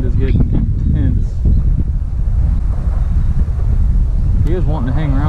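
Strong wind buffeting a microphone on open water during bass fishing from a boat, a loud continuous low rumble with gusty swells, while someone talks intermittently over it.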